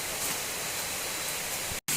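Kuta Malaka waterfall as a steady, dense broadband rush, loud and unbroken before cutting off abruptly at the end.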